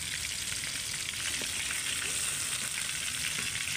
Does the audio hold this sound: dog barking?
no